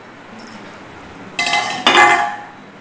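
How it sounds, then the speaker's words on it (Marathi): Chicken tangdi kebabs are set onto a serving plate, with a faint clink early on followed by two louder, bright clatters of plate and utensil about half a second apart, then quiet. "आता मी हे सर्विंग प्लेटमध्ये काढते।"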